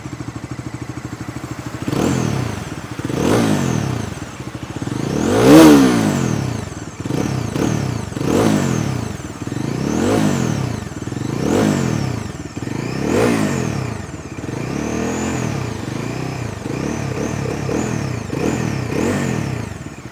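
A 2025 Bajaj Dominar 400 power cruiser ridden along, its engine and exhaust rising and falling through repeated revs and gear changes, loud and close with a throbbing mid-range drone and no talking.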